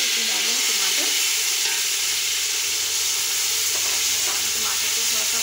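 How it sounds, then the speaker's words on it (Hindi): Tomatoes frying with lightly browned onions in a hot pan for aloo pulao, a loud continuous sizzle and hiss up close with faint stirring scrapes throughout, no voices. "टमाटर को थोड़ा सा फ्राई कर देंगे"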